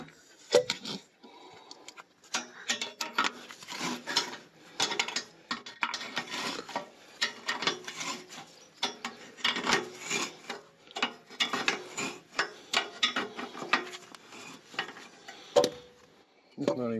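A wrench ratchets and scrapes in repeated strokes while a nut is tightened on a mobile home anchor outdoors, the metallic rasping close and steady with short pauses.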